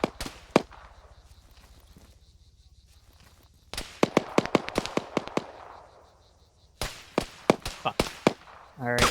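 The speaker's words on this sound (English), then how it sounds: "there's shots from here behind me, I think." Sharp gunshots ring out behind the player in the Arma 3 video game on Altis, scattered single cracks and clustered volleys with quiet gaps between them, some near and loud, others fainter.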